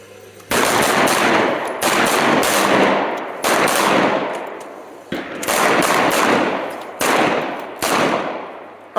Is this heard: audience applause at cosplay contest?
no